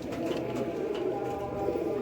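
Laakha breed pigeons coo softly in low, throaty murmurs that blend into a steady hum of cooing, with no voice in the foreground.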